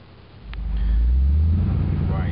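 A car engine rumbles deep and steady as it is driven, the low drone swelling up and holding near and loud, with faint sounds from the cabin around it.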